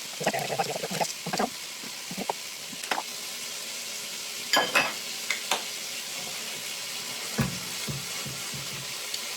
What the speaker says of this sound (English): so the chicken's sauteing